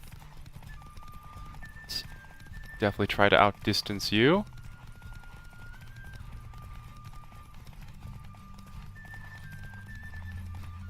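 Hooves clip-clop rapidly as a horse gallops in the video game Witcher 3, with a whinny mid-run over a faint game backdrop, while a person talks over the action.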